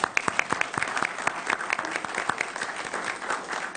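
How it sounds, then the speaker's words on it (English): An audience at a Shreveport mayoral forum on city infrastructure applauds, dense steady clapping from many hands filling the hall for several seconds with no voices over it. "A round of applause for the Chamber of Commerce."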